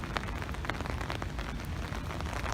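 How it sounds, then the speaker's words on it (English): Heavy rain pouring outdoors on a college campus in winter, a dense, steady hiss of drops hitting surfaces, loud and continuous, with no voices. "it is raining cats and dogs"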